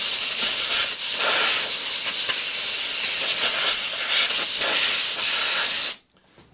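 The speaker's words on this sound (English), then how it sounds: "Right, compressor's full up now. So, compressed air in there." Compressed air blasts into a lawnmower engine in a loud, steady, close hiss that lasts about six seconds before cutting off abruptly into quiet.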